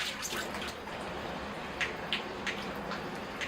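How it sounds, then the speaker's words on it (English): Water splashes and patters steadily close by as a repotted Premna bonsai tree is rinsed, with scattered louder drips and splatters standing out against a soft continuous spray. "I'll rinse the tree off now."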